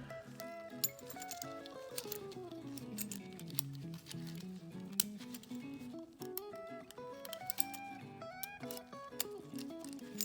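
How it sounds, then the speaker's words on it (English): Metal keys clink and jingle in light, irregular taps as one is worked off a key ring beside old padlocks, quiet and close. "Let's take one of the keys off here."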